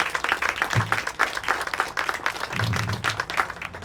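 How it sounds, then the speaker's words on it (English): Audience at a park groundbreaking ceremony clapping, a fairly close, uneven patter of many hands that continues throughout at moderate level, with faint low murmurs beneath. "Y'all can clap for these people"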